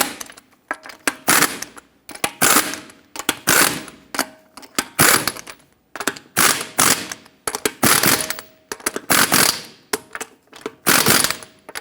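Impact or ratchet tool tightening wheel lug nuts on a 2013-2018 Hyundai Santa Fe, loud repeated bursts of rapid clicking and rattling, roughly a dozen close, evenly spaced pulses separated by short gaps.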